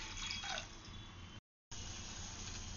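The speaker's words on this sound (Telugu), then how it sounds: "ఇప్పుడు ఈ గిన్నెలో 1 గ్లాస్ వాటర్ పోసి మరగనివ్వాలి." Water from a glass pours steadily into a pot on a kitchen stove, set to boil for china grass halwa, with a short silent gap before the trickling resumes.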